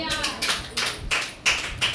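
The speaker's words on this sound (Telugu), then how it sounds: "గట్టిగా చప్పట్లు కొట్టొచ్చుగా." Loud clapping from an audience during a Sunday church service, sounding as a few rhythmic bursts of applause over roughly two seconds, with no talk over it.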